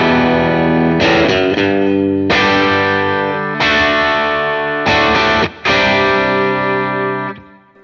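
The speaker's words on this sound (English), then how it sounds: "that is a sound of a 1960s Vox" Distorted electric guitar played through a 1960s Vox amp impulse response, loud and saturated, ringing chords with a few short breaks between strums, alone with no voices.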